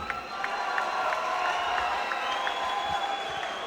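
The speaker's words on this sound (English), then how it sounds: "And a round of applause for Nicholas Manik." Crowd applause and cheering fill a kickboxing event hall after a fight decision, a steady wash of clapping at moderate distance with a faint tone and voices mixed in.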